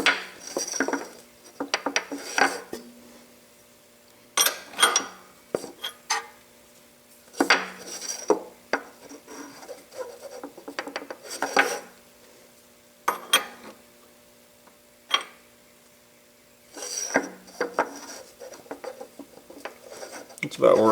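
A wrench clanks and scrapes against metal fasteners while rollers are adjusted on a Yates American J180 woodworking machine during restoration. The sharp metallic clinks come in irregular clusters with pauses between them, close and moderately loud, over a low steady hum.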